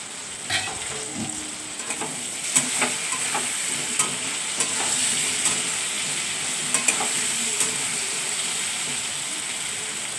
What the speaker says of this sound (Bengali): দেখুন সুন্দর ভাজা ভাজা হয়ে গেছে